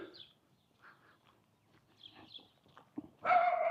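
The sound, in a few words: dog barking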